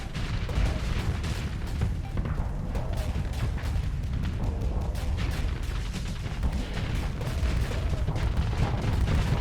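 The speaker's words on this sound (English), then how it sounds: "I'm going to fire off all the sabots so that we can get its flux back up as quickly as possible" Sabot rounds fire in the space combat game Starsector, a dense continuous barrage of booming, gunfire-like blasts at steady high loudness throughout, with no talking over it.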